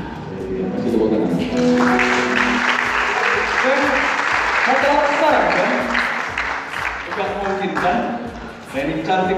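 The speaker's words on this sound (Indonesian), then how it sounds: "Masih tepuk tangan." Wedding guests applaud steadily for about nine seconds, a loud, dense clapping that swells and holds, with voices and music faintly underneath.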